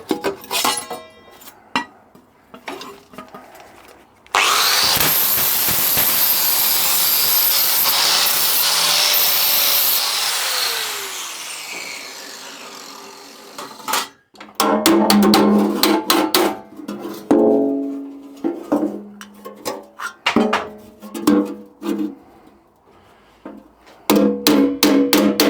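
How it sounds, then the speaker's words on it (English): An electric bench grinder works steadily on a steel vintage tractor fuel tank, a long loud harsh grinding run followed by shorter intermittent bursts of grinding and scraping on the metal, heard up close without talk. "That's the grinder rewired and put new grease in. It's running absolutely splendid."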